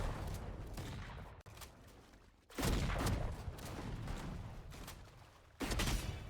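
Gunfire in the tactical shooter Valorant, with bursts of shots and loud blasts at intervals over a continuous game background, heard without talk.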